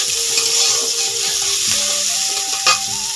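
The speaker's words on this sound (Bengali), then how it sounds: "আলু দিয়ে দিচ্ছি, নেড়ে চেড়ে পটল দিয়ে দেবো।" Potatoes and pointed gourd sizzle steadily in hot oil in a pan while a utensil scrapes and stirs them in irregular strokes, close and fairly loud, with no voices.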